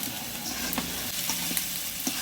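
Spice paste for a chicken curry frying in a pan, with crackling sizzle and several scraping stirs of a spatula at steady intervals, heard up close with no talking.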